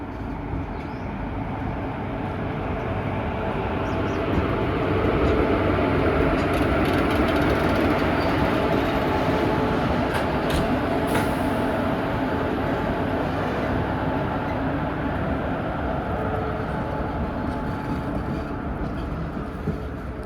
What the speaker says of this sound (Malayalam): ഈ ഒരു മേട്ടൂരിലേക്ക് വരുന്ന ഏക പാസഞ്ചർ ട്രെയിനാണ് നമ്മളിപ്പോൾ വന്ന ഈ ഒരു ഈറോഡ് മേട്ടൂർ പാസഞ്ചർ